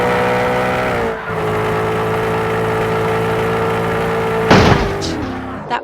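A car crashes in the video game FlexicX: a steady engine drone plays, then a loud, sharp impact near the end is followed by a short clattering tail.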